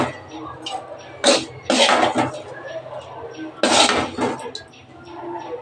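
Prawn and elephant-foot-yam stalk curry, fried until red, being served from a pan into a bowl, with a few loud scraping clatters of a ladle against metal cookware and quieter handling in between.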